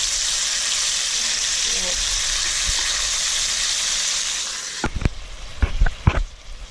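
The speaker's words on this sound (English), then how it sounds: "it was frying there for a while" Steady, loud sizzling of seal flipper and shoulder meat frying in a pan, seasoned with salt and pepper, fills most of the clip, then stops, followed by a few sharp clatters of a utensil.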